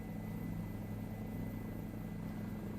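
A helicopter flies over the high mountain passes of the Nubra Valley in Ladakh. Its faint, steady rotor and engine drone continues evenly throughout, with no talking.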